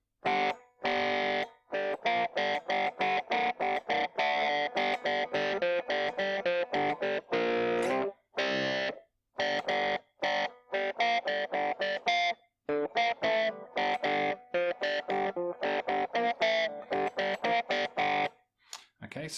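An electric guitar through distortion plays the second verse of a song as choppy, rhythmic chord stabs with short gaps between them, loud and close, with no voices.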